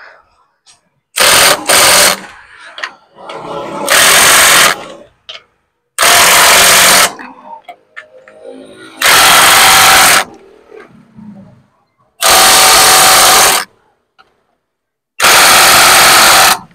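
A pneumatic impact wrench works on the suspension of a Kuda Buffalo e-bike. It fires in six loud, even bursts of about one second each, separated by pauses with faint rustling and quiet talk.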